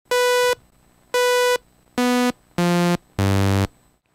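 A simple synth tone from an FL Studio VST plugin plays five separate buzzy, harmonic-rich notes. The first two share a pitch, and the later notes drop lower and sound fuller, each clean and loud with short silences between.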